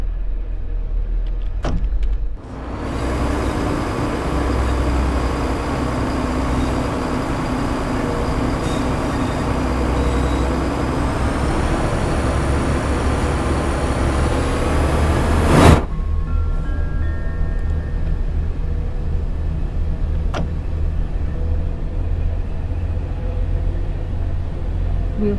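Inside a train cab in the Train Sim World video game, a steady loud hum and rumble of motors runs for several seconds, then cuts off abruptly, leaving quieter background noise.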